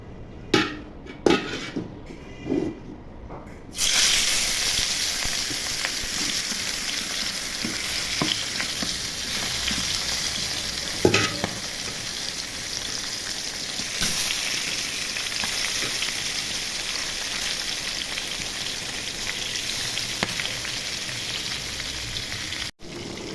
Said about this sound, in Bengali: তেল গরম হয়ে গেছে এখন মাছ ভেজে নিব